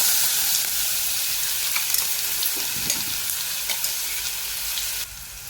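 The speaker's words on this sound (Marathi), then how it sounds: "आता आपण मिरची लसूण आलं कोथिंबीर हे वाटून घेतलं ते घालत आहोत" A ground paste of green chilli, garlic, ginger and coriander fries in a hot pan with a loud, steady, close sizzle that drops slightly just before the end.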